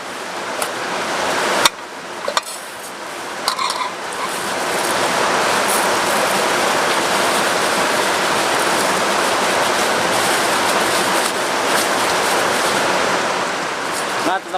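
Heavy rain pours steadily onto a hut in a rice field beside a river, a dense, unbroken roar of hiss with a few sharp knocks early on.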